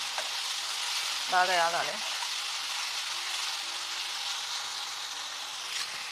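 Ginger, onion and green chilli paste sizzles steadily in a hot pan for a curry, a continuous close frying hiss with a brief voice speaking partway through.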